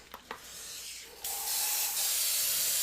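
An airbrush sprays paint in steady hissing bursts, a few short puffs first, then a longer continuous spray that grows louder and holds, close up and alone.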